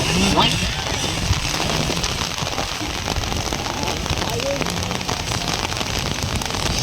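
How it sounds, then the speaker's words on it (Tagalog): Dense, steady rain roars continuously, a loud broadband hiss with scattered pattering drops and no pauses. "Buhos ng ulan, tumigil ka."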